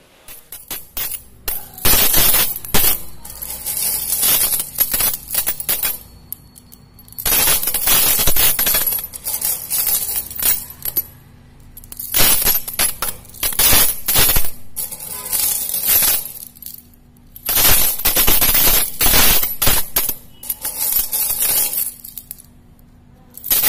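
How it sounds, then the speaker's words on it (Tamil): Coins dropping and clinking in repeated bursts, bright metallic jingles and chinks spilling in clusters separated by short quiet gaps, close and crisp throughout. "இந்த காசு சத்தம்தான் எப்பொழுதும் வீட்டில் ஒழித்து கொண்டிருக்க"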